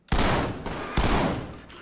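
Gunfire in the tactical shooter Ready Or Not, two close, loud bursts of rapid shots about a second apart, each trailing off into a short echo.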